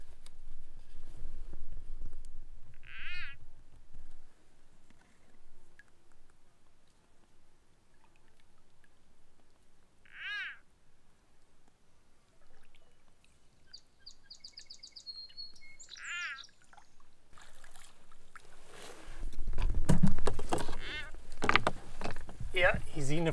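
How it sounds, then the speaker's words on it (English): A frog gives shrill, strained cries while being eaten beside a lake in northern Algonquin, with three brief piercing calls spaced several seconds apart over quiet surroundings, then louder rustling and splashing noise at the end. "Look, the frog is crying."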